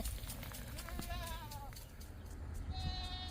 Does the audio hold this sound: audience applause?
no